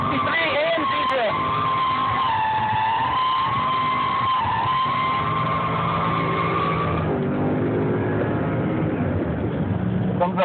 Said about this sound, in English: C63 AMG drift.